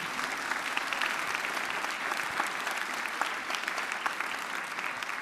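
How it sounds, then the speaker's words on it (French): Steady applause from a studio audience at a French game show, congratulating a winning contestant, continuous dense clapping throughout without any voices. "On va l'applaudir, on va la féliciter"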